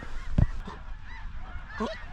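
Snow geese in a spring hunting setting in North Dakota, giving a loud close honk followed by scattered fainter calls of a flock in the distance.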